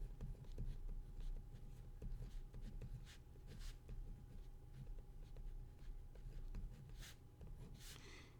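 Marker or chalk scratching out math premises on a classroom board, a steady run of scraping strokes and taps over a low room hum, with no talk.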